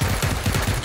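Rapid automatic gunfire from a firefight in the PUBG battle royale game, a quick burst of several sharp shots in close succession, loud and close.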